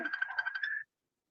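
A mobile phone rings with a brief electronic tone pattern of repeated chirps that stops abruptly after under a second, fairly faint, with no talking over it.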